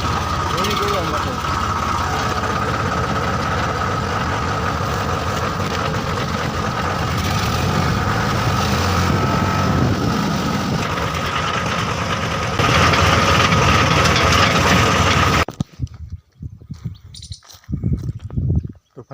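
A farm tractor engine runs steadily on the way to the field, a loud continuous idling chug with occasional knocking, and someone talks over it before the engine cuts off near the end.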